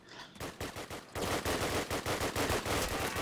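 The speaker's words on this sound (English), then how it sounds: "Currently shooting at the guy near A bunker." Bursts of automatic gunfire from a Call of Duty match, a rapid rhythmic string of close shots that pauses briefly, then resumes denser and louder.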